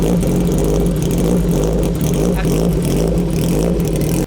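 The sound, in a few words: Kawasaki Ninja H2 2019 supercharged motorcycle engine revving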